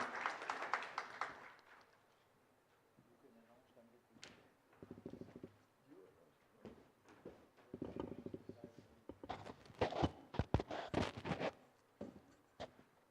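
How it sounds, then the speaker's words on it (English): Clapping from an audience at an export-industry roadshow gathering in Noida, starting as a burst, thinning into scattered claps and short murmurs, then swelling again into a brisk round of applause in a reverberant hall. "Can we have a huge round of applause again, please?"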